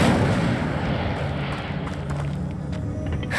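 An Incendio fire spell cast in the Hogwarts Legacy video game, heard as a dense, rumbling burst of fiery roar that sustains steadily for a few seconds with crackling texture on top.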